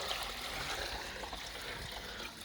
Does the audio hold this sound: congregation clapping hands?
no